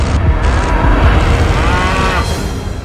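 A water buffalo (carabao) near a rice field gives a loud, close, drawn-out low moo that rises and bends in pitch, heard alone without talk.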